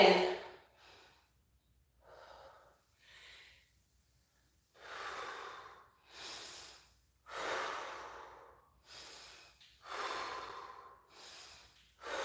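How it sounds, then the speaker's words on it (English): Heavy breathing during a core workout, a series of strong exhalations and inhalations in a steady rhythm, close and loud, with quiet pauses between breaths. "As soon as you get to that tuck position, you're going to breathe that air out."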